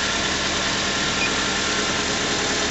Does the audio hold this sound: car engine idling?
yes